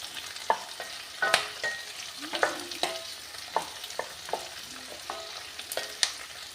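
Chillies fry in a new kadai for a chilli chutney while a spoon stirs them continuously, giving close, sharp scraping clicks at an irregular pace over a soft sizzle.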